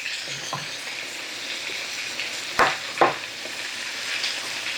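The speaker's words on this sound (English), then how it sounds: "we're gonna add the cooked drain pasta. Stir that in." Cooked, drained pasta stirred into macaroni and cheese in a pot, a soft continuous sizzle with two sharp spoon knocks against the pot partway through, close by, no talking.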